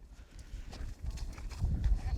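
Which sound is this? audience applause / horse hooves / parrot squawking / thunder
horse hooves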